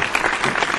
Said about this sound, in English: Let's give a big round of applause for Jen Remauro.